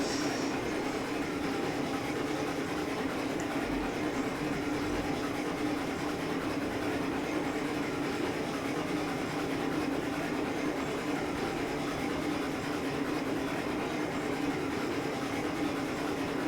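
Train rolls steadily along the line in the railroad simulation game Railroads Online, a continuous even rumble and hiss with no pauses and no talk.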